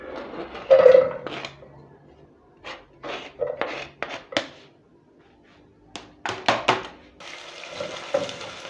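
Onions cooking in oil in a sufuria on a stove, with soft sizzling and stirring and a few louder scrapes, followed by a steadier fry near the end, fairly close and quiet.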